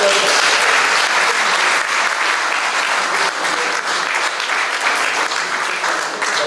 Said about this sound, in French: on va applaudir encore Bernadette